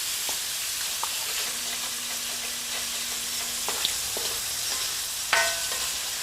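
Bok choy potstickers browning in a frying pan give a soft, even sizzle with occasional light clicks and taps of a utensil, fairly quiet and close.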